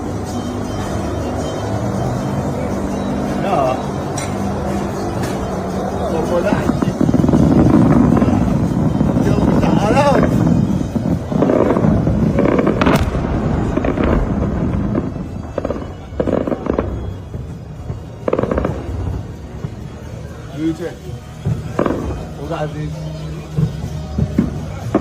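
A drone is met by C-RAM interceptor fire, heard as rapid bursts and cracks over a loud rumbling background, near and intense, with voices talking through parts of it.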